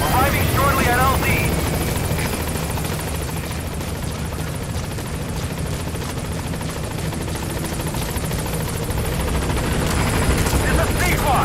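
A helicopter arriving at a landing zone in Metal Gear Solid V: The Phantom Pain, with a loud, continuous rotor thrum and engine roar filling the scene from start to end, and game radio voices heard over it.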